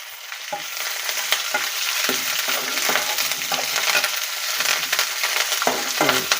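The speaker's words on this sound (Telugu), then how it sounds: "ఇప్పుడు ఇదిగోండి ఎండుమిర్చి కరివేపాకు కూడా వేసేసాను" Dried red chillies and curry leaves frying in oil for velakkaya pulihora, a continuous close crackling sizzle broken by repeated scraping stirs.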